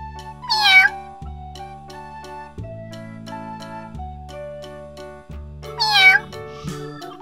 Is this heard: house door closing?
no